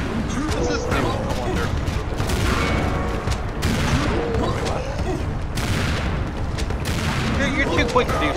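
A double shotgun fires repeatedly in the video game Serious Sam 2, with loud booming blasts in rapid bursts over continuous game noise and talk.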